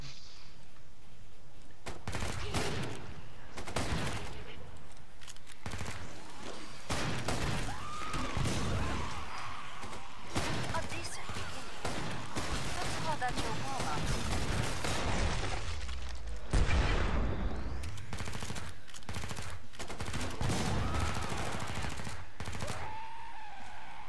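Dense, continuous gunfire and explosions from the shooter game Killing Floor 2 keep up across the whole stretch, loud bursts overlapping with booms and crashes and hardly a pause.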